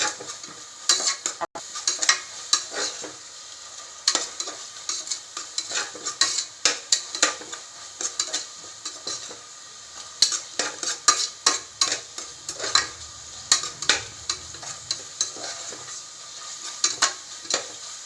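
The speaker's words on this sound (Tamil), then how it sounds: "இஞ்சி விழுது வாசம் போகிற வரையும் நல்லா வதக்கணும்" Ginger garlic paste fries with golden-browned onions for tomato rice, a constant sizzle broken by frequent sharp scrapes and clinks of a spatula stirring against the pan, close and without talk.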